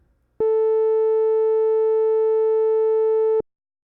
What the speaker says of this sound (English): So you can already hear that the buzzy sawtooth wave from before has become a lot darker sounding